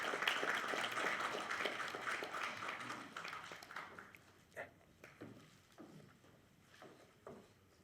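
An audience applauds at a ceremony marking the 104th anniversary of the Korean Declaration of Independence, a faint, dense burst of clapping that fades over a few seconds into a handful of scattered claps.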